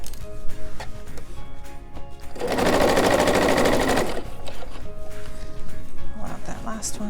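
A sewing machine runs in a steady rapid burst for about a second and a half while stitching an outdoor pillow, with quieter handling sounds and talk before and after.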